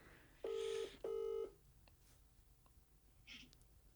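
Telephone call being placed: two loud, steady ringback tones in quick succession, followed by quieter faint clicks and a brief soft tone, with no talking.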